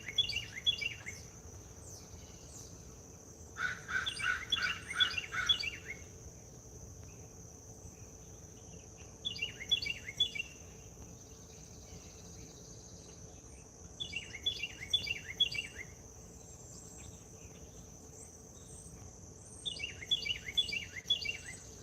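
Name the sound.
loud bird calling outdoors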